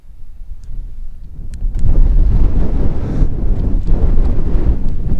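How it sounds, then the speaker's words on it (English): Strong monsoon wind gusts buffet the microphone on a homestead, a loud, rough roar that surges stronger partway through and keeps rumbling. "Wow, the wind is extreme."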